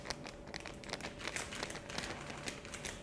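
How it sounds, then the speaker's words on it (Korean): A small dried udon garnish soup packet of dried green onion and fried tofu is shaken side to side. Its light plastic crinkles and rustles continuously, close and soft, with no speech. "건더기 스프는 자르기 전에 윗부분을 잡고 좌우로 흔들어 주세요."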